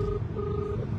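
Telephone keypad dialing tones sound as a steady two-tone beep over a low, rumbling background for about a second.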